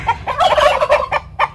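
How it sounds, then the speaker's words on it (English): Turkeys gobble on a Central Florida backyard homestead beside the chicken breeders, with a loud, rapid burst of warbling gobbles up close followed by two shorter calls, and no voices. "Next to them, we have the turkeys."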